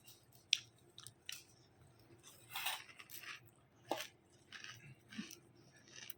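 Someone eats a meal at home, a series of close, irregular chewing and crunching bites with a few small clinks of dishes or cutlery between them, and no talking.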